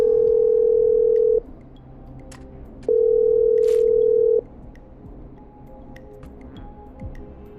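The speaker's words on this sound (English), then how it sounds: "I'm dialing." Two long steady telephone dial tones in the game Killer Frequency, each lasting about a second and a half with a pause between, loud and clear over a faint background hum.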